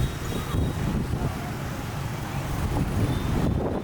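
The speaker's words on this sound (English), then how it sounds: "It is very windy now." Strong wind buffets the microphone with a steady low rumble by a lakeside near a temple in Hanoi, Vietnam, continuous and loud throughout, with faint background noise beneath.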